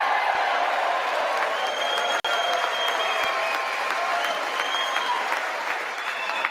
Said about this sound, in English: Anybody clapping on the top row?